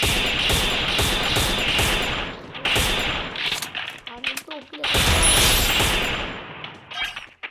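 Rapid bursts of gunfire from the Free Fire battle-royale video game crackle loudly and almost continuously, with a short lull in the middle before another dense volley of shots.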